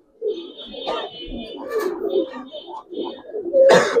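Giribaz pigeons coo in soft, low repeated bursts at close range as a female is released, with a brief flutter or clatter near the end and people talking over them.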